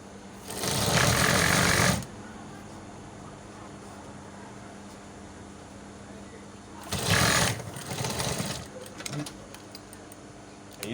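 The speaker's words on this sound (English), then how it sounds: "Then you sew." A sewing machine stitches a welt pocket, running in two loud bursts of rapid whirring, one of about a second and another broken into shorter runs, with someone talking between them.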